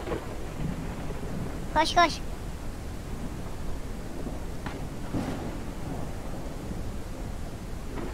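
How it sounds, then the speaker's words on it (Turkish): Steady rain pours throughout with a faint distant rumble of thunder, while a person briefly speaks and a short sharp call rises above the downpour. "Oo, yağmura bak kardeşim, üşümeye başlıyorum ha."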